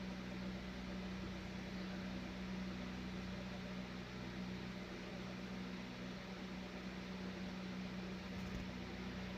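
An electric fan running steadily indoors, a continuous low whirring hum with a faint tonal drone, quiet and unchanging with no talking.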